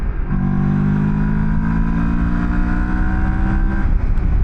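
Moto Morini X-Cape 700 twin-cylinder motorcycle pulling in third gear on a roll-on from 50 to 70, a loud steady engine drone with tones rising gradually over a few seconds, mixed with wind rush and no talking.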